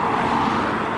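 Busy road traffic on the A420 gives a loud, continuous roar from passing vehicles, close and steady for the whole second with no voices.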